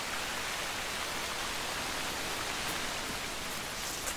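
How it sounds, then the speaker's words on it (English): Heavy, overly intense rain in theHunter: Call of the Wild, a steady dense hiss of downpour that fills the whole stretch without a break, loud and close. "this rain is overly intense."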